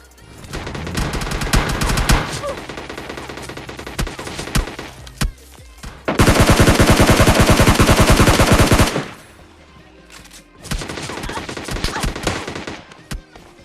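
Gunfire in PUBG Mobile Lite, including an M24 sniper rifle, heard as bursts of rapid shots with one long continuous automatic volley in the middle and scattered single cracks between.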